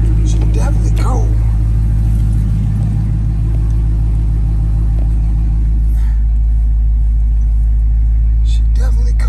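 A cold car engine cranks and runs with a loud, close, heavy low rumble that stays steady throughout, and someone talks briefly over it.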